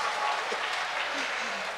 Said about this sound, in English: Clap for that to Jesus